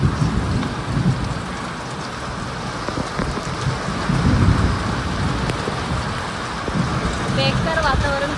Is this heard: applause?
no